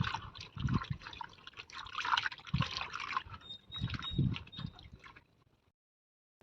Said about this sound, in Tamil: தொட்டு தண்ணியில் அப்படியே அலசிக்கலாம்.